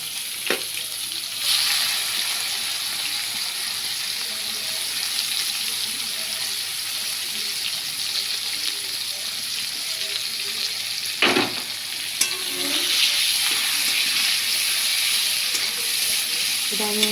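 Chopped onions fry in hot oil with cumin and bay leaf, giving a steady close sizzle and hiss with occasional sharp clinks of a spoon stirring the pan.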